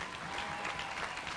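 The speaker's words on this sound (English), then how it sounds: "that's an applause line" Audience applause at a university commencement address, a steady, dense clapping that holds evenly across a short stretch with no talk over it.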